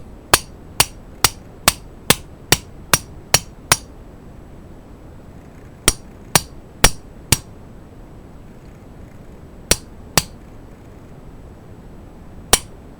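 Sharp metallic hammer strikes drive a bushing onto a power steering pump shaft in quick steady runs, a burst of ten, then five, then two, then a lone blow, with short pauses between groups.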